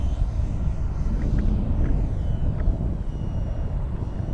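An FMS Diamond Hobby LET 13 powered RC glider flying inverted, its motor giving a steady distant rumbling drone mixed with wind noise across the microphone, with no talking.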